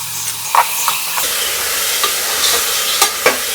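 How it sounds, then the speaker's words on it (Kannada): Cut ash gourd being stirred into sambar in a pot, a continuous sizzling hiss with a few scraping knocks of the spoon against the vessel, close and fairly loud with no talk. "ಚೆನ್ನಾಗಿ ಮಿಕ್ಸ್ ಮಾಡ್ಕೊಳ್ಳಿ. ಈಗ ಇದಕ್ಕೆ ನಾವು ಕಟ್ ಮಾಡಿದಂಥ ಬೂದುಗುಂಬಳಕಾಯಿ ಸಹ ಹಾಕ್ತಿದ್ದೇವೆ."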